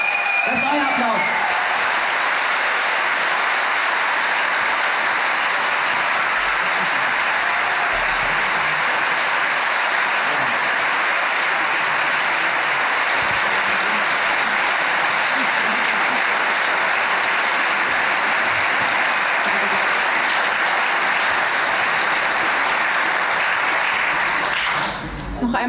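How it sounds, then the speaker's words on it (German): An audience claps loudly and continuously for an orchestra after a concert premiere performance, a dense sustained roar of applause that holds steady before cutting off at the end. "Das ist euer Applaus."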